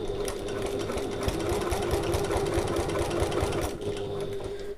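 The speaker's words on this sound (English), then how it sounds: "I'm going to start with my needle down using my top stitching stitch length, and I'm sewing 1/8 of an inch away from that top edge there" A sewing machine runs steadily, top stitching an eighth of an inch from the top edge of fabric for a pocket, its fast even needle chatter close and continuous with a brief dip near the end.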